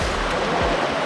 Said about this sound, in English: Pretty sweet waterfall.